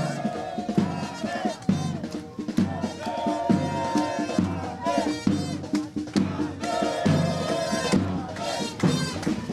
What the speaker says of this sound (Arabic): في زفه كبيره هنا في مدينه نصر شغاله اهي